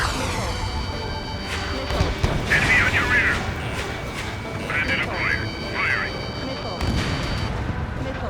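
A fighter jet's aircraft gun in the Ace Combat 7 air-combat game fires in three short, rattling bursts under radio chatter and background rumble.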